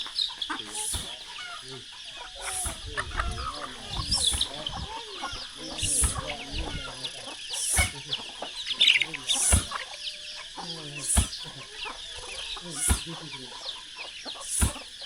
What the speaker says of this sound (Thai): เบิ่งไก่